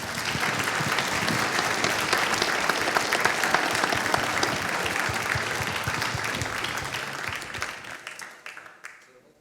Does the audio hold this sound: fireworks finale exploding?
no